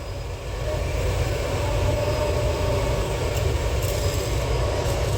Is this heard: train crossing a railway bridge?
yes